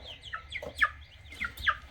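Young meat chicks in a grow-out pen, several quick high chirps and peeps in an irregular run, close and moderately loud over a low background hum.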